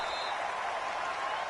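Stadium crowd in a football video game applauding after a catch, a soft, even wash of clapping and crowd noise, faint and continuous.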